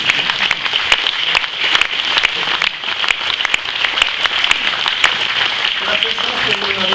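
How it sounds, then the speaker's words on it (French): A crowd at a French town's New Year greetings ceremony applauds award winners, with steady, dense clapping that carries on evenly for several seconds and a faint voice surfacing near the end. "Vous pouvez applaudir."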